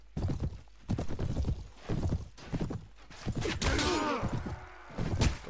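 A cavalry horse in the game Clash of Kings pounds out heavy, rhythmic hoofbeats in repeated bursts, with a loud whinny rising over them near the end.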